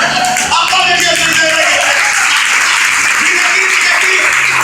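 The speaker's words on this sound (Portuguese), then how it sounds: "Aplaude Jesus." Church congregation applauding in a loud, continuous burst of clapping, with voices and background music mixed in underneath throughout.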